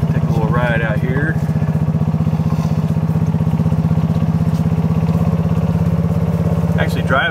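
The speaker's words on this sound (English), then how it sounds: "All you gotta do is put the pedal down. Motor cranks up, you start to move." A gas-powered Club Car golf cart, jacked up on wide tires, drives along with a steady, close putting engine drone, while someone talks briefly at the start and end.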